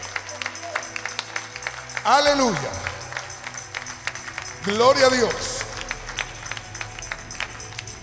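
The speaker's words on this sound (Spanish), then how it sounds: "Dale un aplauso al Señor." A church congregation claps in praise during a Spanish-language service. Rhythmic hand claps run through the clip beneath two loud, exuberant shouted exclamations from a preacher.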